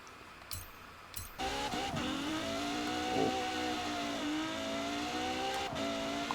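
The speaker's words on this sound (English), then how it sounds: "that's a lot of wheel spin from the Apollo" Apollo supercar in Forza Horizon 4 spinning its wheels at launch in a highway drag race: a steady, loud engine roar rises after a brief quieter start, holding a high revving whine with a few short tyre squeals.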